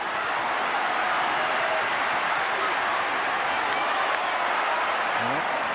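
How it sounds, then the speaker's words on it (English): A dense, steady crowd roar fills a 1988 rugby league match between the Parramatta Eels and Balmain Tigers, loud and continuous throughout with no clear breaks. "Crowd cheers as Growth takes the ball up strongly."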